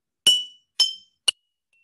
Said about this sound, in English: notice when I tap the jars that they do not all have the same sound